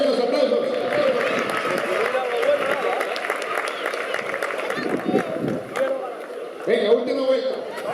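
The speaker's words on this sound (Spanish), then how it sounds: "Agradezco los aplausos." Audience applause and cheering at a youth athletics race for cadets and juniors in Gijón in 2012, a steady dense wash of clapping and crowd noise with voices mixed throughout.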